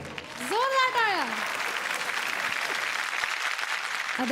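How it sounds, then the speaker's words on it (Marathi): Loud audience applause on a Marathi singing competition stage, sustained dense clapping, with a voice briefly calling out over it at the start. "जोरदार टाळ्या."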